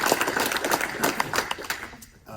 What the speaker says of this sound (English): I would like to give you a round of applause